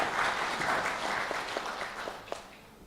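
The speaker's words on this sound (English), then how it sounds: "Let's give them another very big round of applause" A conference audience applauds in a steady, moderately distant wash of clapping that thins out and fades over a few seconds, with a few louder individual claps near the end.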